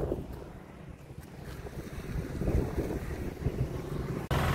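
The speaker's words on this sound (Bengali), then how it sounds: "ঠান্ডা ঠান্ডা হাওয়া, পুরো স্রোত দেখো একদম জলের" Cool wind gusts buffet the microphone in a steady roar beside a river with a strong current near a tea garden in Siliguri, with a low rushing water wash underneath and no voices.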